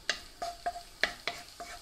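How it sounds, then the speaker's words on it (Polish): Garlic frying in hot oil for fried rice, with a few distinct scraping stirs against the pan over a quiet sizzle, close and fairly soft. "O, już zaczyna nam ładnie skwierczeć."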